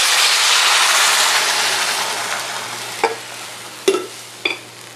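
Water hits sautéed onions in a hot pan and sets off a loud, bursting sizzle that slowly fades. A few sharp clinks from a utensil follow, close up and with no voices.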